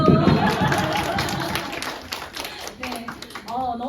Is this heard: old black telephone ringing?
no